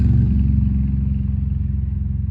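A motorcycle engine rumbles steadily with a low, throbbing putter, loud and fairly close, gradually easing off as it moves away.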